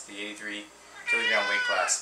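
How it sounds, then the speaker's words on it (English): A pet cat meows twice, then gives a longer, louder drawn-out meow close by while someone talks over it. "and that's my cat."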